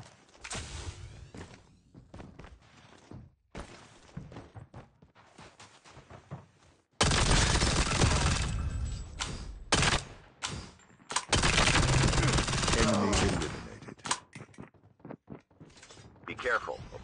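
Bursts of gunfire in COD Mobile on the Alcatraz map, irregular volleys and rapid automatic runs with thuds and footsteps between them, growing loud and dense in the middle stretch while a voice gives callouts.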